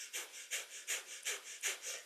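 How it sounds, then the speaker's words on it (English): Breath of fire in a seated kundalini yoga practice: quick, evenly spaced panting puffs through the nose, about four per second, close and soft with no talk. "it's a panting breath through the nose"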